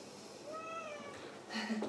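A cat gives a short, drawn-out meow close by, followed moments later by a second brief, higher cry, in a quiet indoor room.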